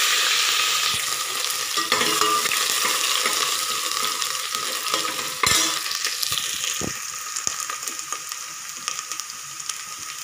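Whole black peppercorns, garlic, ginger and onion frying in oil for a rice dish, a steady bright sizzle throughout with occasional clicks and scrapes of stirring, close and continuous without talk.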